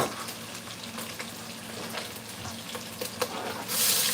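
Food sizzles and crackles inside a pressure cooker whose lid is not seated properly, a continuous moderate hiss with small pops and a louder burst of hissing at the end.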